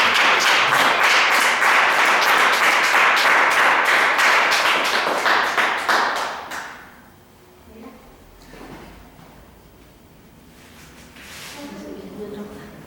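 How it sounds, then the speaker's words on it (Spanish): A church congregation breaks into loud, dense applause that runs for several seconds, then dies away into a quiet hall with a few scattered sounds. "Dele otro aplauso al Señor Jesucristo, por favor."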